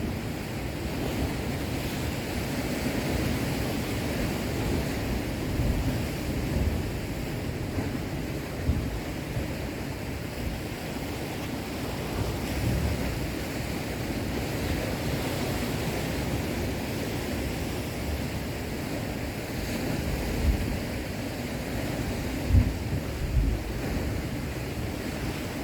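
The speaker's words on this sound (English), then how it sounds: "The ocean sounds amazing, right?" Ocean surf on the Oregon coast, a continuous broad wash of breaking waves with wind buffeting, steady and enveloping with occasional louder surges.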